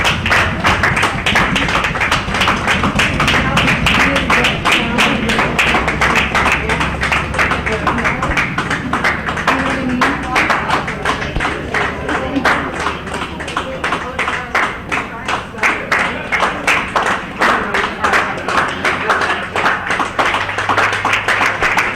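Scattered clapping from a small crowd of thirty or forty people at an Honor Flight event, steady and uneven, mixed with murmured voices and a low background hum throughout.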